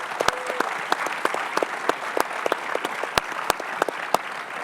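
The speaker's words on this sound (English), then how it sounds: "So just a quick round of applause for Mr. Kraft." A conference audience breaks into a brief round of applause for Mr. Kraft, a dense patter of many hands clapping at moderate volume, steady throughout and with no voices over it.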